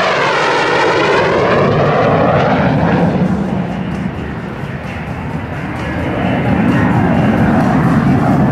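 A Mikoyan-Gurevich MiG-17 Fresco jet roars loud and close through a minimum radius turn with afterburner lit at an air show, its engine noise steady and powerful with sweeping pitch shifts as it passes.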